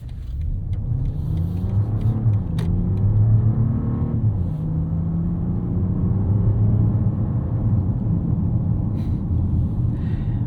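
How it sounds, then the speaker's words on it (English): A 2024 BMW 750e engine hums and rumbles steadily from inside the cabin in sport mode, with a few gear-like pitch shifts as it accelerates; no voices. "you can put it in sport mode, you can put your transmission into sport"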